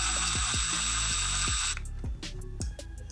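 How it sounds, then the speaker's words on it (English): An impact driver runs in clutch bolts on a Honda TRX250R ATV clutch, giving a steady high-pitched whine broken by a quick series of rattling hammer impacts close up. The whine cuts off partway through and a few separate clanks follow. "We'll bring these in with the impact."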